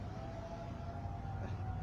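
Distant tornado civil defense siren sounding during a routine test, a faint sustained wail under low outdoor rumble and noise, no voices.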